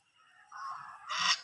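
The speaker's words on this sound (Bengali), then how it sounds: "ছোট ছোট হাঁস" Small ducks in a village call out in a couple of short nasal honking quacks, the second brighter and louder, heard fairly close against a quiet background.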